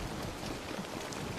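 Heavy rain falling steadily: a dense, even wash of drops and patter at moderate distance, continuous throughout with no breaks and no voices.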